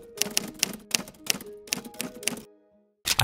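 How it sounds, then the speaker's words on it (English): A typewriter sound effect layered over soft background noise: a fast run of sharp key strikes that stops for a short silence before the clacking starts again. "you can add some noise sound effects under the typewriter sound"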